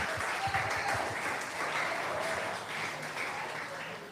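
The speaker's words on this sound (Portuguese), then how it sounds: "Aplauda Cristo." A church congregation applauds, broad sustained clapping at moderate distance with a few voices mixed in beneath it, fading slightly toward the end.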